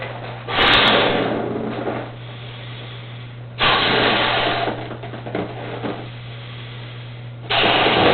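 Air pump inflating a 16-inch donut balloon for a balloon motorbike, in three long steady whooshing bursts separated by pauses, close and fairly loud over a constant low mains hum.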